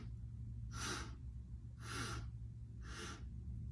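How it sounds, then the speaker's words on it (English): Three short, sharp nasal inhalations during a guided segmented breathing exercise, evenly spaced about a second apart, close and clear against a faint low hum. "So this is 4 inhalations into the nose,"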